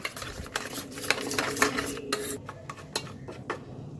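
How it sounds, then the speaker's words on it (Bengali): Yogurt with salt and spices whisked in a bowl: quick scraping, rasping strokes in an irregular rhythm, close and fairly quiet, with no talk. "এবার এটাকে খুব ভালো করে ফেটিয়ে নেব।"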